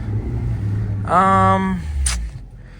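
A Nissan S-Cargo, two-wheel drive, revs its engine while stuck in snow: a low idle rumble rises into a loud, climbing rev for about a second, then drops back, with a brief hiss afterward.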